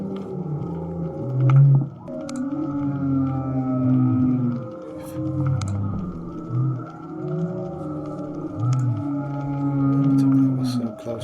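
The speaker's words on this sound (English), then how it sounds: "Thousands of humpback whales." Humpback whales sing underwater in long, moaning tones and rising, wavering calls, overlapping and echoing, with occasional clicks and no talking.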